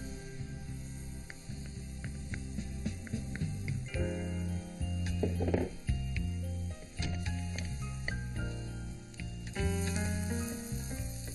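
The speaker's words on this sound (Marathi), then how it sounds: "ही जी भोपळी मिरची बारीक चिरून घेतली आपण, ती टाकूया पॅन मध्ये." Finely chopped bell pepper sautéing in a pan for bell pepper modak, a close, steady sizzle broken by frequent scraping and clattering of a spoon stirring against the pan, with no voices.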